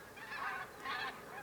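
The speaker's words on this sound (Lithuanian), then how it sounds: "Prasideda didžioji žąsų migracija." Geese honking during spring migration in Lithuania, a couple of soft, somewhat distant honking calls in quick succession.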